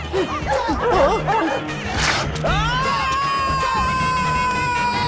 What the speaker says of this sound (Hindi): अरे बाप रे, कुत्ते पीछे ही पड़ गए।